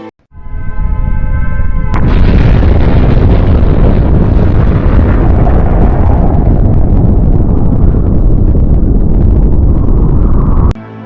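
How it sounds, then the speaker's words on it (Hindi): Asteroid striking Earth's surface, a sudden massive blast that cuts in after a brief tonal lead-in and holds as a loud, dense, roaring rumble for about nine seconds before cutting off. "जब यह एस्टेरॉयड पृथ्वी के सतह से टकराता है तो 4500 डिग्री सेल्सियस का महाविस्फोट होता है"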